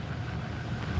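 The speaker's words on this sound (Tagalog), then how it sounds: "O, malakas na ang hangin mga kabayan." Strong wind blows outdoors in a forest at night, a continuous low roaring rush that swells slightly toward the end, with no talking.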